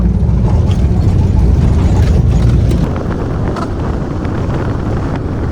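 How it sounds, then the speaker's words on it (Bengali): Inside a moving bus in Netrokona, a steady loud rumble of engine and road noise mixed with wind buffeting against the microphone, easing slightly partway through. "ফাইনালি আমরা বাসে উঠেই পড়লাম"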